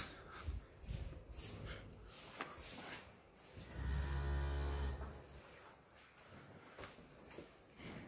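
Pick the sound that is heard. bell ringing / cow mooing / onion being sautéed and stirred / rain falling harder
cow mooing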